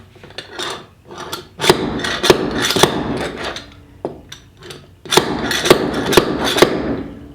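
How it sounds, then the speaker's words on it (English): Nail puller slammed down repeatedly to hook and pry a nail from a curly log at a sawmill, giving loud close metallic thwacks in two bursts of rapid strikes with scraping between them. "you slam it down a few times, and it hooks the nail if you're lucky, and it pries it right out"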